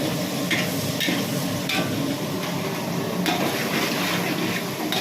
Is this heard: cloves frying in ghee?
yes